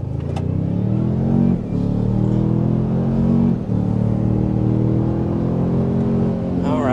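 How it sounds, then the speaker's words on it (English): A 2023 Toyota Sequoia accelerates hard to 60 mph, its engine droning loudly and rising in pitch through two brief pauses for gear shifts, heard from inside the cabin. "the larger and heavier Sequoia still accelerates to 60 about 7/10 of a second faster"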